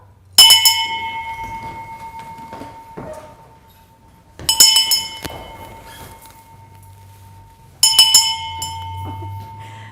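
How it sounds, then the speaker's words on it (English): A hand bell is struck three times in a one-room schoolhouse, each a bright ringing clang that fades slowly, spaced a few seconds apart in a quiet room. "I'm going to ring the bell."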